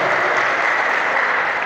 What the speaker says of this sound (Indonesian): Tepuk tangan buat panitia.